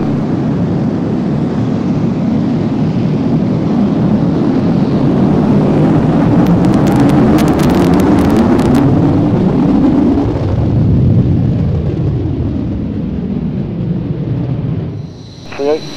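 A jet aircraft taking off at the 2001 Waddington airshow, a loud, rolling roar that swells and shifts in pitch as it passes, with brief high whine mid-way and trailing away at the end.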